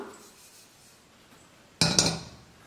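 Roasted semolina is moved from a kadai to a plate: after a quiet stretch, one short, loud metallic clatter rings out, fading quickly.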